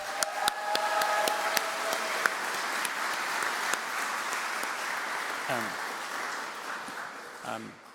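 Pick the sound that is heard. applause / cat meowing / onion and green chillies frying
applause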